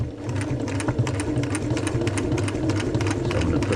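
Close, steady whir of a sewing machine running continuously as it stitches a repair seam on a Panacea 2 tent, with rapid needle clatter over a low motor drone.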